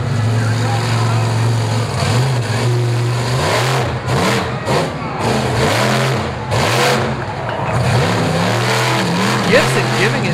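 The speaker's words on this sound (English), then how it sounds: "So you're going to see these trucks skating around and splashing around a lot." Monster trucks at the 4-Wheel Jamboree Nationals in Lima, Ohio, rev and slide through water on a wet track, loud engines rising and falling with splashing bursts in between.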